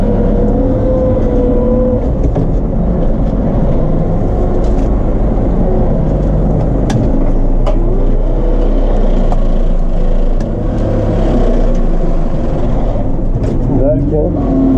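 A Case JX110 tractor works a wheat field, its engine droning loud and continuous at close range with a steady low rumble and occasional mechanical rattles throughout.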